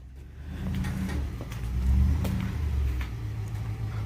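A vehicle backing up a dump trailer rigged for leaf removal, its engine rumbling and swelling into a moderate rev midway before settling, heard close with no talk.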